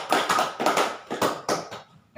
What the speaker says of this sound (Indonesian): beri tepuk tangan dulu untuk pembelajaran kita hari ini